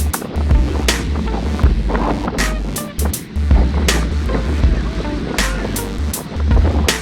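Wind roaring across the microphone during a group bicycle ride on a gentle climb, a loud, steady, buffeting rush with gusty swells and faint voices underneath.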